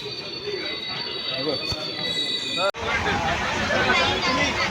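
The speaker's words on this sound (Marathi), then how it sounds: "ही पहा आली ट्रेन" A train rumbles into a station, its wheels squealing, while a crowd chatters nearby; the noise swells suddenly partway through.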